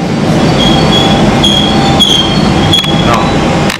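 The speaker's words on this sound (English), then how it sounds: "Go on, Ken, get on the train." A train rolls past close by, loud rumbling rail noise with wheels squealing in thin high whines and a few sharp clanks, continuous and without speech.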